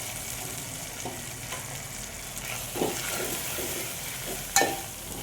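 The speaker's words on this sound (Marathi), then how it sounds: "त्यानंतर परतवतोय सुकं खोबरं" Dry coconut roasting in a pan after cashews and almonds, a soft steady sizzle with occasional scraping stirs and a sharp clink near the end, close and fairly quiet.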